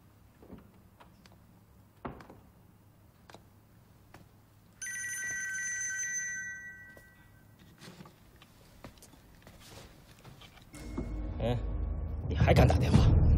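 A telephone in a TV crime drama rings with a single bright electronic trill lasting about a second and a half mid-scene, amid faint room noise, scattered knocks and louder rustling and voices toward the end.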